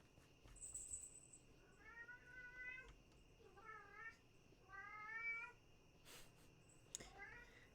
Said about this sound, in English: The cat sounds like he's just about ready to throw hands.